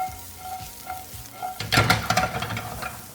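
Bacon and potatoes fry in a pan with a steady close sizzle, quiet at first and then turning louder and more crackling as food is stirred and moved.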